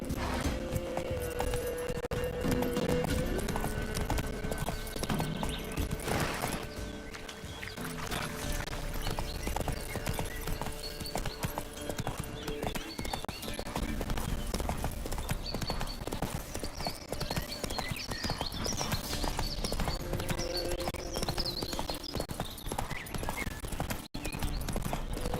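Roach the horse's hooves clip-clop steadily through the whole stretch in The Witcher, a continuous walking rhythm with a brief whinny-like tone and game ambience behind it, no talking.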